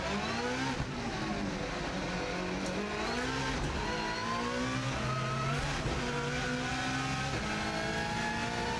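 Subaru Impreza rally car taking a tight right-hand corner on a road course after a handbrake pull, its engine droning loud and steady with rising and falling pitch as it revs through the turn, heard from onboard.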